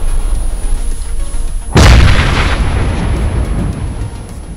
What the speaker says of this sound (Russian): О, граната.